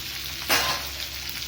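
Garlic and green chilies sauté in a hot pan with a steady, fairly quiet sizzle that swells into a brief louder burst of crackling midway, then settles back to an even hiss.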